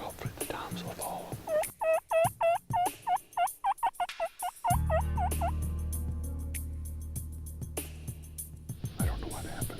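Wild turkey toms gobble in a rapid series of loud, rattling calls, followed by a steady low rumbling drone under faint chatter, outdoors during a spring turkey hunt.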